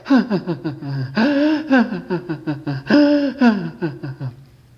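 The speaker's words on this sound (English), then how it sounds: "You take an inhale, and then you express the emotion on the exhale." A voice demonstrates breathing for emotional expression: a sharp inhale followed by a long, voiced, sighing exhale, repeated twice in close, clear succession with gasping, whimpering tones.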